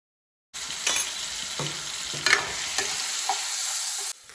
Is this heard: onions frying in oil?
yes